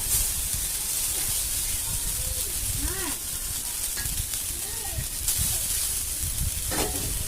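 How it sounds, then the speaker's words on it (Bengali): Boiled and cooled Maggi noodles fry in a hot pan, giving off a steady, even sizzle and hiss that runs throughout, with a few faint tonal sounds in the background. "এখানে দিয়ে এটা আমি ভাজা ভাজা করে নেব, একটু ভেজে।"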